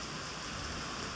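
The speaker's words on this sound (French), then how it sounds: "il y a beaucoup de pluie quoi tout simplement" Steady rain pours down outdoors, a dense continuous hiss of drops with no breaks, even and moderately close throughout.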